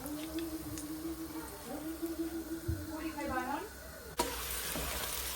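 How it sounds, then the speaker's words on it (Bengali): Bitter gourd slices fry in a pan at home, giving a steady sizzle with stirring and scraping beneath a voice talking over it, then a sharper burst of sizzle near the end. "এখন করলা ভাজি করতেছি"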